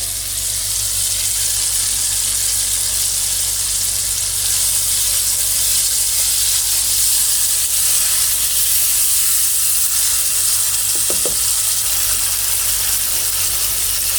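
Tomatoes frying on high flame for chicken curry, a loud, steady broadband sizzle and steam hiss that runs throughout with one brief knock near the end, no voices.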